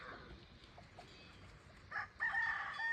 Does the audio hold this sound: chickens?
yes